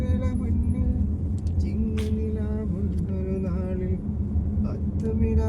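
A car rolls along the road with a steady low engine and tyre rumble, close and continuous while people talk inside.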